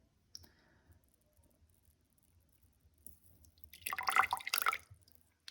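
Water trickles and splashes into a glass holding a little ordinary table salt, a short burst of pouring after a few faint clicks, close and quiet with no voices.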